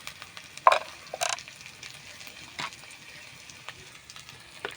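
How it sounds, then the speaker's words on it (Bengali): Fish with turmeric, chilli powder and salt sizzling in a pan, stirred with a few sharp scrapes and clatters over a low steady frying hiss, close by. "ভালো করে নেড়ে দেবো"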